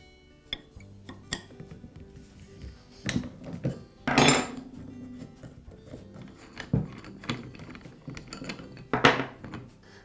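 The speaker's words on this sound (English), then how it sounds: "I lock the spindle with the spindle lock button, and then use the wrench to remove the lock nut" A wrench works the lock nut off the spindle of a Makita angle grinder, giving scattered metallic clinks and ratcheting clicks with a few sharper knocks over a low steady background.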